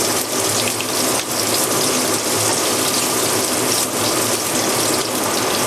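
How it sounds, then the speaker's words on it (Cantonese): Tap water runs continuously over pork knuckles being rinsed and cooled for braising, a loud, steady rushing hiss close by with no voices. "咁因為我隔離咧，我就同嗰個即係豬手咧就沖水"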